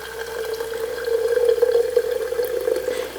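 Beef bone broth drains from a fat separator into a jar as a steady, close trickle of liquid with a faint ringing tone, filling the brief moment without speech.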